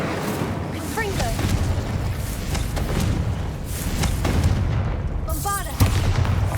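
Fiery Confringo spell blasts in the Hogwarts Legacy video game, booming explosive bursts over a continuous rumbling game soundscape, with a short voiced spell cast heard among the effects.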